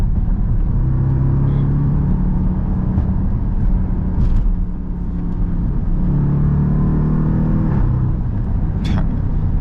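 An SRT Jeep with its mid muffler deleted drives along, its exhaust a deep, steady rumble inside the cabin with mild rises in revs and a continuous road drone.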